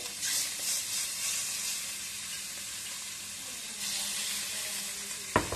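Pieces of food are laid into hot oil and rubbed around, producing a close, steady frying hiss that flares slightly at the start and again later, ending with a brief clatter.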